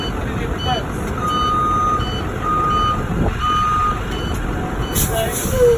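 Reversing beeps from a school bus during a pre-trip inspection, steady repeated tones at a moderate distance with engine idle, while someone talks over them.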